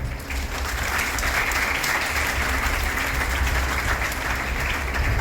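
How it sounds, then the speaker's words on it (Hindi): An audience at a ceremony for students who passed the NEET and JEE exams applauds the students' parents, with a loud, steady wash of many clapping hands and no break throughout. "तो आपके अपने पेरेंट्स के लिए जोरदार तालियां।"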